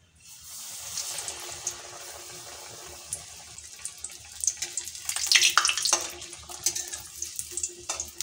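A single battered banana-flower chop drops into hot oil and fries with a steady hiss, sharper crackling bursts flaring midway, close and fairly loud with no talk.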